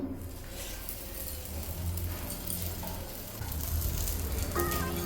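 A stuffed snack fries in hot oil in a home kitchen pan over a low gas flame, giving a steady dense sizzle that swells slightly midway.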